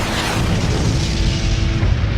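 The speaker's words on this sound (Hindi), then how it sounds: "ये लो, एवान स्टील कैनन, आक्रमण!" A heavy steel cannon attack explosion in a video game makes a sustained, loud, rumbling roar that holds steady for a couple of seconds.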